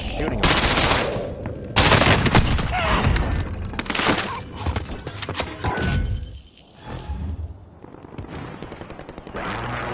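Rapid automatic gunfire from the video game Warzone, loud and close, with dense bursts and sharp cracks through most of the stretch, a brief dip in the middle before the shooting resumes.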